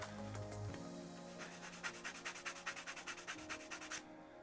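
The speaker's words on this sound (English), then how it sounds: "I may be able to get away with just a sanding block." A sanding block scrapes back and forth in quick, even strokes, close by and fairly quiet, with no talking.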